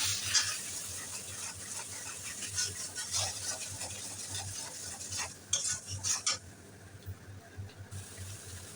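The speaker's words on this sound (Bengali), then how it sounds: "এখন দিয়ে দেবো স্বাদ মতন লবণ এখন আমি ভালো মতো কষিয়ে নেব" A spoon scrapes and stirs salted spice paste with turmeric in a pan, producing soft repeated scraping and a faint sizzle, fairly quiet and close.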